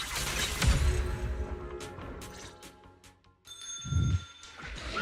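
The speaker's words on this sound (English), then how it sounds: "The distant toll of the purgation bell echoes" A distant tolling bell in the video game Zenless Zone Zero rings out in a few clear metallic strikes, mixed with thuds and a low impact partway through.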